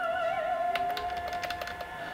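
Fast typing on a computer keyboard, a quick run of light clicking keystrokes heard over a steady tonal hum from music or equipment in the room.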